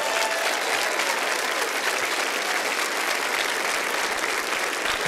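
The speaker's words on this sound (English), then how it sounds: "I can't make it up here before y'all stop clapping." Sustained applause from a church audience welcoming a visiting pastor to the stage, steady and dense throughout with no talk over it.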